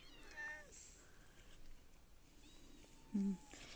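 Injured purebred cat meowing softly, with a few brief mews and one louder meow near the end, faint and close in a quiet room.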